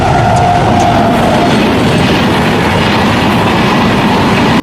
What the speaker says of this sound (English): As a train approaches at high speed